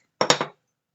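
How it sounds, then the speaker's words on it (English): A regular hammer strikes a fine silver ring on a horn anvil three times in quick succession, each blow a sharp, close metallic clink that rings briefly before the next one lands, followed by silence. "I'm going to use a standard hammer, just a regular hammer, and give it a whack"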